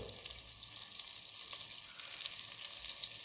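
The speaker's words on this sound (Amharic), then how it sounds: "ልክ ቅቤው ቀልጦ እንዳለቀ ሽንኩርቱ እጨምራለሁ" Onions sizzling in melted butter in a pan for a chicken curry, a steady close hiss and crackle throughout with no talking.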